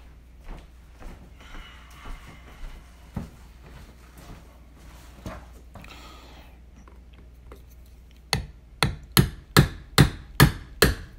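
Punch struck with a hammer to drive a pivot rivet out of a Spyderco Manix2 Lightweight folding knife: about eight sharp, loud metallic strikes in a quick, even rhythm near the end, after quieter handling taps and clicks.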